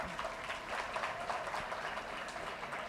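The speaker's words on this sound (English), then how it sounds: "Can we clap for Veena ma'am?" An audience at a Raveena Tandon interview event claps for her, a faint, distant, even patter of applause held steady throughout.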